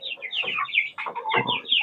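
Chickens on a Philippine poultry farm after a run of storms, clucking and squawking close by in a busy overlapping chorus of short repeated calls.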